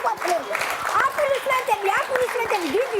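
Steady crowd applause with dense clapping runs throughout, partly masked by a voice speaking over it.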